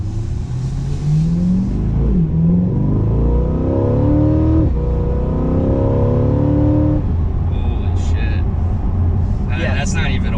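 A 2023 Corvette C8 engine revs loud and close while accelerating at about half throttle, its pitch climbing in rising sweeps and dropping back, with people chatting under the roar.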